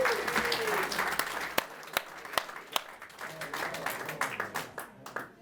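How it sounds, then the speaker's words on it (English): Audience applause at the IMSHOF induction and awards ceremony in Jersey, a full burst of clapping that thins into scattered, distinct claps and sharp individual hits as it winds down. "give yourselves a round of applause"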